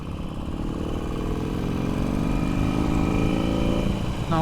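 Motorcycle riding at a steady 60 km/h, heard from the rider's position as a loud continuous engine drone with wind rush, unbroken for several seconds.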